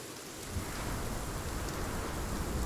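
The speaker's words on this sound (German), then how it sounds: "Alter, jetzt geht der Sturm aber richtig ab." A heavy in-game thunderstorm in Sons of the Forest swells in after a brief quiet start, dense rain hissing loudly with a low thunder rumble beneath, steady and close.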